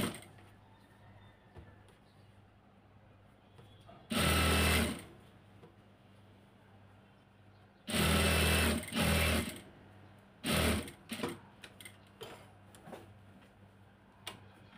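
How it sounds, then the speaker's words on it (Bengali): A sewing machine stitches fabric in two loud sustained runs, followed by a few shorter bursts and faint clicks in a quiet room. "বসিয়ে সেলাই দিয়ে আমি আটকিয়ে দিব"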